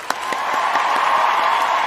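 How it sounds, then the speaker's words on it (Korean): A gathered crowd at the opening of a church family camp claps together, a dense wash of applause that rises quickly after a first sharp clap and holds steady. "우리 다 함께 박수 한번 쳐볼까요?"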